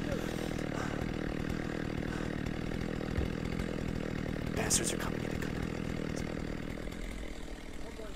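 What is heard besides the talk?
chainsaws running outside in the early morning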